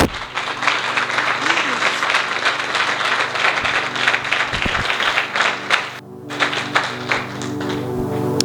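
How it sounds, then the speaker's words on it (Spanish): A church congregation breaks into steady applause to welcome a newcomer, a dense wash of many hands clapping close and loud for several seconds before it quickly dies away. "Esas palmas más o menos la bienvenida"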